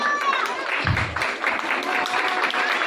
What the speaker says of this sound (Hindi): कलीसिया जे तो तालियां मार रही तो खुल के मारते हैं